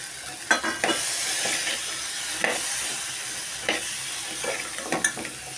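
Shelled green peas with deep-fried cauliflower and deep-fried potatoes stir-fried together for mixed veg bhaji, a steady sizzle under repeated scraping stirs at close range, with no voices.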